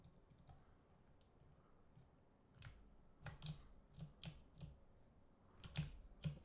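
Typing on a computer keyboard in a quiet room: a few scattered clicks, then a busier run of sharp key taps in uneven bursts, close and faint, with no talking.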